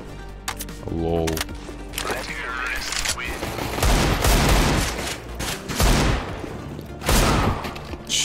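Gunfire fills a match of the free version of CS:GO, with bursts of rapid automatic shots and heavy booms over game ambience and brief in-game sounds, loud and close.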